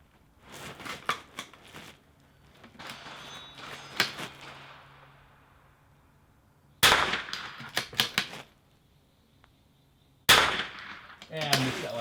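At an NRL22 .22 rifle match, a few sharp, close cracks from a .22 rifle stand out amid bolt clicks, handling clatter and shuffling, with quiet gaps between bursts.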